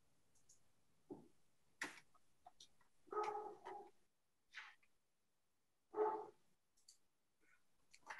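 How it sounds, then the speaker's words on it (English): A dog barks in short, scattered bursts in the background of a quiet meeting room, faint and intermittent with gaps between yelps. "Pay no attention to Ginger barking in the background."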